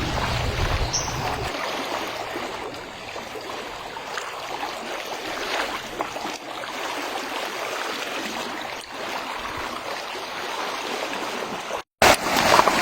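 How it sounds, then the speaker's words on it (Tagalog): A river with a strong current on a farm route to a cornfield, a continuous full rushing wash of flowing water close by, steady throughout with a brief cut near the end. "malakas ang agos ng ating ilog"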